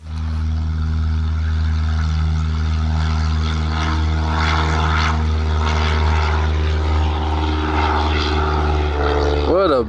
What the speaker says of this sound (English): I'm gonna take off now and come around for the first landing